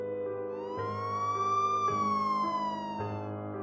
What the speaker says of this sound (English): followed by the scream of a siren